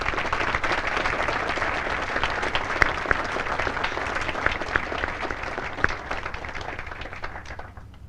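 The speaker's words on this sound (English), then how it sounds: "please join me in giving our awardees a round of applause" Sustained applause from a seated audience at a military Advanced Camp graduation ceremony honoring awardees, dense steady clapping filling the whole stretch and fading slightly at the end.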